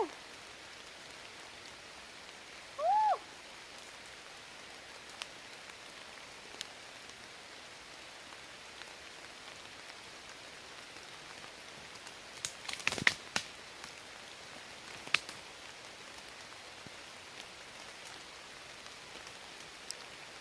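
Soft, steady rain hiss falls throughout. A brief chirp comes early on, and a few faint taps and clicks sound about midway.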